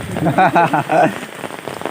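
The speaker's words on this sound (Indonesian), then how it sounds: "Hujan di Pedesaan." Rain pours onto surfaces in a countryside village, a close, loud patter, with a brief voice-like sound near the start before the steady spatter takes over.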